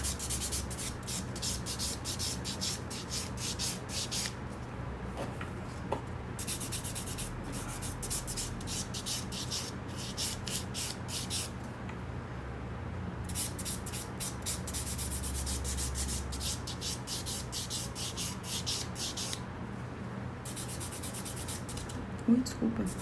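Steady hand rubbing and sanding on fiberglass during maintenance polishing, a continuous close scratchy friction with rhythmic strokes and brief pauses, no speech over it.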